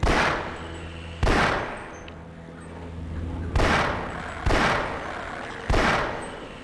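Half-Life video game gunfire: five loud, separate shots spaced about a second apart, each a sharp crack with a ringing, decaying tail.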